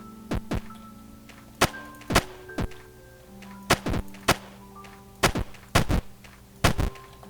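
Gunshots in the roguelike dungeon game Lord Of The Dungeon, about a dozen sharp punchy bangs fired in irregular pairs and singles, loud and close over a faint low game hum.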